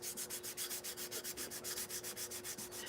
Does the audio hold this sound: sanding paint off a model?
yes